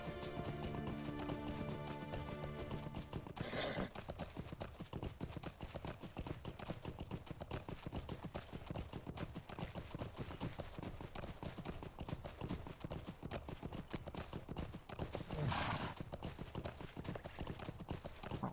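Rapid hoofbeats of a galloping horse pound steadily and close in The Lord of the Rings Online, continuing throughout over a dense, busy game backdrop with brief swells of noise.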